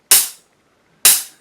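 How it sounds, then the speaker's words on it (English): Two crisp hi-hat strikes on Zildjian low volume cymbals, about a second apart, each a sharp bright hit with a short fading wash, alone with no talk. "these are Zildjian low volume cymbals, so it's not going to sound like a completely normal hi-hat"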